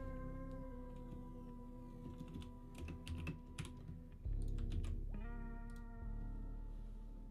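Typing on a mechanical keyboard fitted with Cherry MX Brown switches, a steady run of close, crisp key clicks over a constant electronic hum, with a louder burst of strokes midway.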